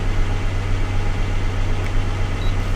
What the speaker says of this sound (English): Truck's been idling for a few minutes with the door open.